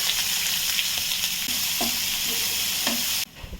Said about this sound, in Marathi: तेल गरम झालं फोडणीला घातलं जिरं मोहरी कढीपत्ता आणि आता कांदा घालणार